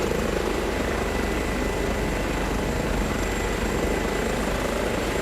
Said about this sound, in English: I do love this helicopter